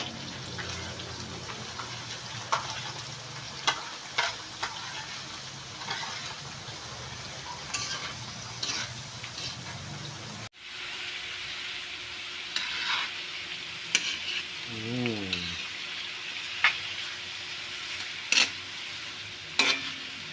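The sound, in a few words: onions and vegetables frying in a pan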